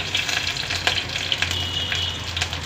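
Green chillies and other ingredients for tomato rice frying in a pan, a brief steady sizzle up close with light scraping.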